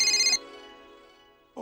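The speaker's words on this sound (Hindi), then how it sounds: "पोपटलाल का फोन" A telephone ringtone chimes loudly as a bright electronic melody, cuts off after a moment and leaves a fading tonal tail, followed by the start of another burst.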